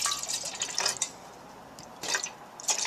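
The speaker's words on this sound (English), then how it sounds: "So I'm going to put some fluid in here while that's coffee is filtering." Water splashes and trickles in short bursts as it is poured into a container during coffee making, with a quiet pause between two pours, close and fairly faint.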